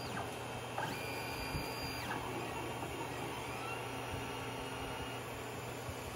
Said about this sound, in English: I am printing pretty slow because it's TPU.